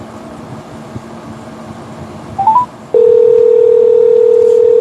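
A phone dials a caller back on a live radio show: a quick run of dialing tones over low background noise, then a loud steady tone that holds to the end, with no talking.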